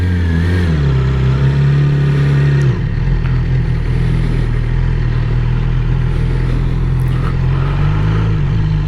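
A Yamaha R6 sport bike on its first ride of 2021 through town, engine droning loud and close, revving higher before dropping to a lower steady hum as it cruises, with wind noise.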